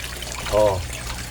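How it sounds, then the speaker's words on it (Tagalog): An aquarium air pump aerator bubbles and trickles steadily in a koi pond, a continuous watery wash with a brief voice sounding over it midway. "i-on natin ang aerator ko guys. Yung aerator pump ko guys, i-on natin."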